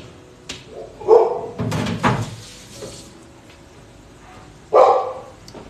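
A dog barks indoors, several sharp barks spread over a few seconds, mixed with thumps like a cupboard or door closing, fairly close and loud, with no speech over them.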